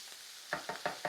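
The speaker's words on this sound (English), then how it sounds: "So we're getting a bit of colour on the bacon." Bacon frying in a pan alongside cabbage, heard as soft close sizzling with four light, evenly spaced stirring knocks in the second half.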